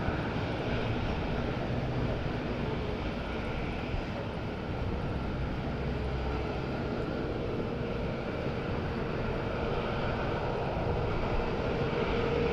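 A TUI airliner flies at windy Madeira Island Airport, its engines giving a continuous broad roar that holds steady and fairly loud, with no voices.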